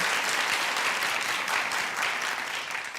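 A studio audience on a television talk show bursts into dense, continuous applause, a loud, even wash of many hands clapping at once that holds steady throughout, with no voices over it.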